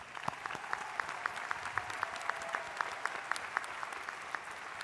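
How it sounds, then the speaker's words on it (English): Applause at a university spring commencement for doctoral candidates, with distinct rhythmic hand claps ringing through a large outdoor or hall space, fairly sparse and moderately distant. "Let's give them a round of applause."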